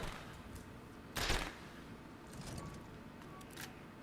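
Hand Cannon from Resident Evil Village: a single sharp, loud gunshot-like burst near the middle, then quieter scattered clicks and ticks over a low background.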